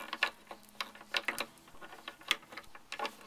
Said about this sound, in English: I'm now going to wind the rest of the string on in a fairly tight coil up against the string that comes through the spindle